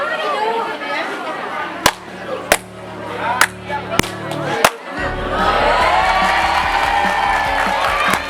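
Students at a high school physics project clap to trigger sound-activated lamps: about five sharp, separate claps ring out in a room, followed by a sustained burst of loud group shouting and cheering.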